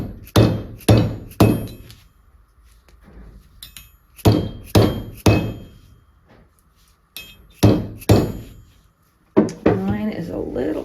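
Sharp, ringing hammer strikes shaping a copper bracelet made from easily bent tubing, falling in quick groups of two or three with short pauses between, close and loud, with brief talk near the end.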